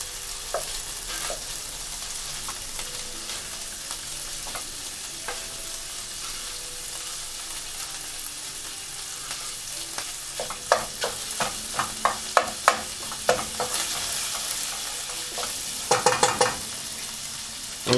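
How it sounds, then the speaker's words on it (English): Sausage fries in a pan with a constant sizzling hiss while a utensil pushes and breaks up the meat, the scraping taps growing busier and louder toward the end. "I'm just gonna like push on the sausage, break it up"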